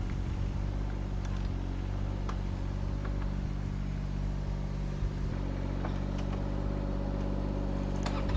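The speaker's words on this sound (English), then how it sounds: "we're going to take a couple bucketfuls with our excavator" An excavator engine runs steadily on a farm during chestnut tree planting, a loud continuous mid-pitched drone with faint clanks and knocks over it, no talking.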